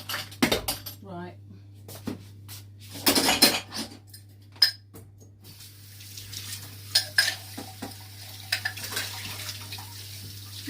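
Clattering spoon-on-tin scrapes and knocks as chocolate banana oat muffin batter is spooned into a muffin tin, in irregular bursts with some quiet gaps and a steady low hum behind.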